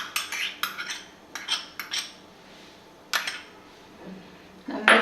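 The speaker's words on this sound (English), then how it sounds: "Now mix them well." A metal utensil clinks and scrapes against a bowl while omelette ingredients with grated cheese are mixed, giving several sharp, close taps in irregular bursts with quieter gaps between.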